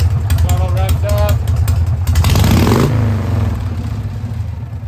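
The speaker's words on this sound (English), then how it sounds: "So there she is, running and idling like she's supposed to. Choke is fully off. Throttle revs up." A rebuilt Harley-Davidson Shovelhead motorcycle engine runs loud and close, idling with a steady low throb before the throttle is blipped into a brief rising rev that falls back toward idle.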